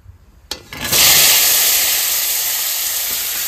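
Potatoes drop into hot oil seasoned with dried red chillies, cumin and bay leaf, setting off a sudden loud burst of hissing sizzle that settles into a steady, close fry.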